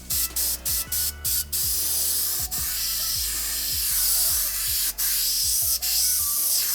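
An Iwata HI Line HP-CH airbrush with its nozzle cap removed sprays paint for fine detail, giving a loud, continuous close hiss broken by short rhythmic pauses early on and a few brief gaps later.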